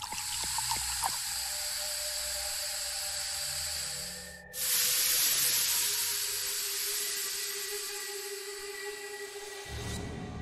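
Steam hisses from three underwater stones in a shallow pond in a puzzle adventure game, a steady broadband rush that swells loudly after a brief dip and runs on continuously with no voices.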